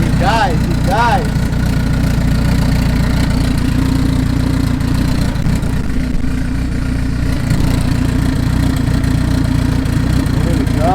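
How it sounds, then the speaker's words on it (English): A car engine idles steadily at its first start-up after a PCM swap, a loud continuous low rumble running throughout, with a few voices talking over it. "There we go. Idling."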